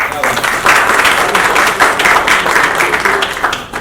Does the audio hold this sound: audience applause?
yes